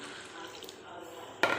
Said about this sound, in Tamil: இப்போ தேங்காய் ஊற்றிக்கலாம்.